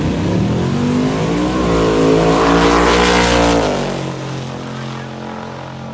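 Twin Whipple supercharged Camaro launching against a Ford Mustang at a drag race, engines howling loud and rising in pitch as the cars pull away, then fading as they run down the strip.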